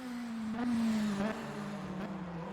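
Race cars lapping Donington Park during a BVTCC qualifying session, a steady high engine drone that swells as cars pass nearby, with no talk over it.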